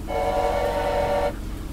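An engine hums steadily in Choo-Choo Charles, where the train is painted orange, with a sustained tonal drone that cuts off sharply near the end.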